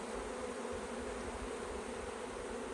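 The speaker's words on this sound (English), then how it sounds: "Man, these bees are filling up this hive pretty good" Honey bees from a caught bush swarm drone around a hive in a dense, continuous buzz, steady and close throughout with no pauses.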